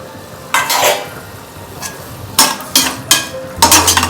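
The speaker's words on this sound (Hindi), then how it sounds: "जब ये ऑयल थोड़ा गर्म हो जाएगा, इसके बाद हम ये ऑनियन प्याज" Onion pieces dropped into heated oil, giving several bursts of broadband sizzling with stirring scrapes between them, close and fairly loud with no talking.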